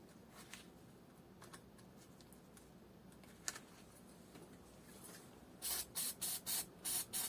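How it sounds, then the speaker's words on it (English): Penetrating oil sprayed onto the cylinder head of an Opel Vauxhall 1.8 16v engine during head removal: five or six short, sharp hissing bursts in quick succession near the end, following quiet workshop shuffling and faint taps. "And spray with a penetrating oil."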